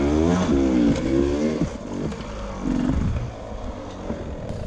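Two-stroke engine of a Beta 300RR enduro motorcycle on hard rock terrain, revving in sharp rising bursts that drop away and surge again, close and loud with no talking.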